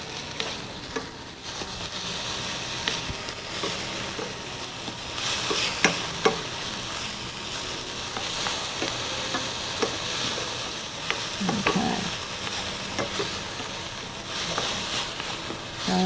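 Garlic frying in a hot pan gives a steady, close sizzle with crackling and spatter throughout, and it runs with no talking.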